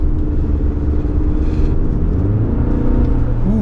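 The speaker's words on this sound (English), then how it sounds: "It doesn't even sound like a 4-cylinder. It almost sounds like a V6." Low, steady engine hum and road rumble from a 2023 GMC Canyon AT4 four-cylinder pickup driving up a canyon road, heard from inside the cab, continuous and fairly loud with no talk over it.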